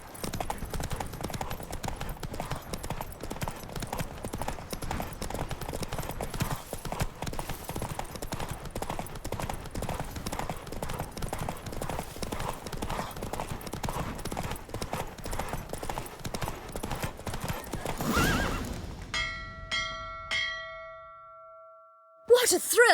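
Horse hooves beating a fast, steady clip-clop at a gallop throughout a Witcher 3 race, loud and close, ending with chime-like tones as it stops; no clear neigh stands out.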